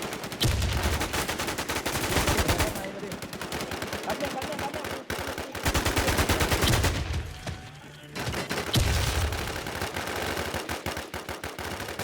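Rapid automatic gunfire from a weapon in the Warzone video game, with dense bursts of shots in long strings broken by brief pauses, loud and close throughout.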